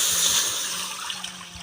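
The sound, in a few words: cold water being poured into a pan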